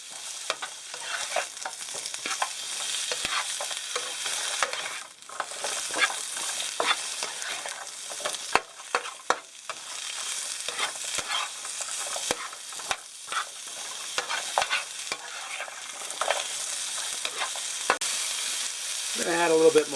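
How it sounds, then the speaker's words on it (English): Food sautés in oil in a pan, a steady close sizzle with frequent stirring scrapes and clatters running throughout. "This stuff is sauteing quite nicely here."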